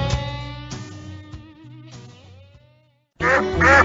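Duck quacking sound effect, a series of loud, close nasal quacks with pitch bends and short gaps, then a brief silence before a final burst of harsher quacks, no talk.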